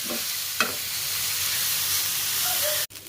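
Masala with fresh coriander dry-roasting and being stirred in a pan, a steady sizzling hiss with a brief scrape of the spoon, close and alone.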